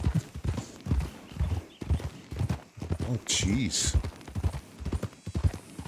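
Horse hooves clip-clop in a GoldRush RP western game as a rider slows the horse entering town, the rhythmic steps running under steady talking from a nearby voice.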